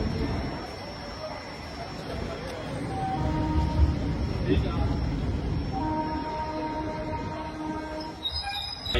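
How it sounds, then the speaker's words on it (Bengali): A passenger train pulling away and rolling along the rails, a steady rumble and clatter building in the middle with occasional squealing wheel tones, and people talking over it. "ফাইনালি ট্রেন ছেড়ে দিল।"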